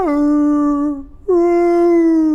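A voice imitates a whale call with two long, mournful, howl-like tones that sound like a sad dog. The first wavers slightly and fades, and after a short gap the second starts abruptly and holds steady.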